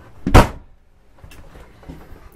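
The back entrance door of a 2003 Coachmen Spirit of America 249QB RV opens with one sharp, loud clunk of the latch and door. Softer knocks and rattles follow.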